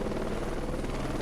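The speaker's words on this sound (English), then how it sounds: "this little old Polish helicopter" Steady, loud rotor and engine drone of a small old Polish military helicopter in the Heliborne combat game, a dense continuous whir filling the whole moment with no pauses or talk.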